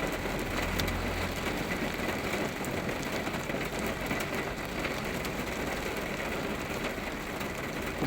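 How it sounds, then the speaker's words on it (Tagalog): Steady dense hiss of heavy rain pours continuously, with faint clicks and rattles mixed in and no talking. "Ang lakas na ng ulan."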